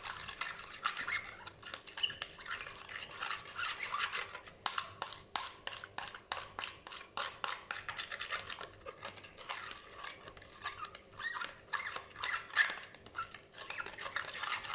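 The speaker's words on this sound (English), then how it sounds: "Mix it for a nice minute or 2." Homemade dough is mixed by hand in a bowl, producing faint, rapid rhythmic tapping and scraping strokes that run steadily throughout.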